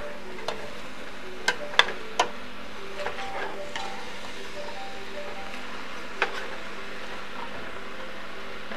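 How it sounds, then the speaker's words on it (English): Food stirred in an oiled pan over a steady low sizzle, with a few sharp utensil clicks and scrapes against the pan scattered through, close up and with no talking. "And stir them a little bit more."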